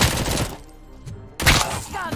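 A pistol fires in a video game while the player faces a fully head-armored enemy, a loud broadband burst early on, a quieter gap, then another sharp blast with clattering follow-up.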